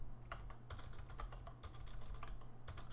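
Fingers type on a computer keyboard at close range, a quick irregular patter of light clicks and taps in bursts, with a faint low hum underneath and no talking.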